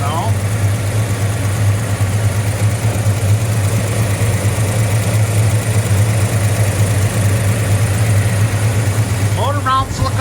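A 1966 Chevelle engine idles with a steady, loud, low rumble and a shaking vibration, heard close up for the whole stretch. A faint squeak comes near the end.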